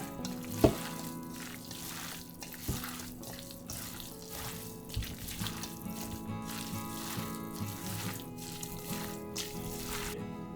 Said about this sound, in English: all we're gonna do is use our hands to mix it, make sure everything is coated really well